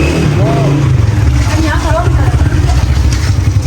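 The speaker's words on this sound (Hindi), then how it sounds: "अभी कौन है जो बाइक का आवाज़ आ गया है" A motorcycle engine drones loudly nearby with a steady rumbling roar and a slight rise as it passes, while people talk over it.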